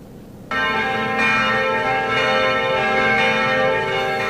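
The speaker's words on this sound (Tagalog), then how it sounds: "umalingaw-ngaw ang tunog ng kampana kaninang pasado alas 5:30 ng hapon" Church bells ring out together across a town in the late afternoon, a rich sustained peal that begins abruptly and swells, loud and resonant with layered overtones, with no voices.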